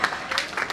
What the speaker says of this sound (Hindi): अभी ताली मत बजाओ।